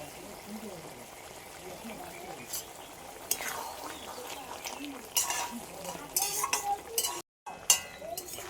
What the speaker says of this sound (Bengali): এবার ভেজে রাখা বেগুনটাও দিয়ে দেবো সব একসাথে বেশ কিছুক্ষণ ফুটিয়ে নেব